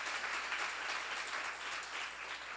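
A church congregation at a Korean seminar applauds together, a steady wash of many hands clapping at once, sustained and moderately loud across the whole stretch.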